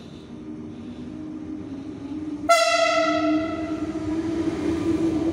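A Regio 2N train sounds a loud, sustained whistle as it passes, rising over an already present rumble of the train, with the rolling noise continuing after the blast.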